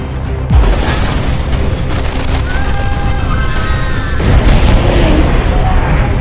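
A loud explosion in Kyiv booms close and heavy, followed by a continuous roaring rumble and scattered crackling debris, with tonal whines and shifting noise lingering as the blast reverberates.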